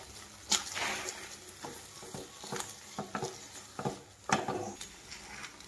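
Wheat rava laddu mixture with fried dry fruits being stirred in a pan, giving close scraping and patting strokes in an uneven rhythm, several louder sweeps standing out, with no talk.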